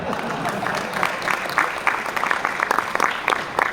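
Audience clapping at a stand-up comedy show in Gujarat, a steady patter of many hands with uneven bursts, fairly close and moderately loud, running alone without talk.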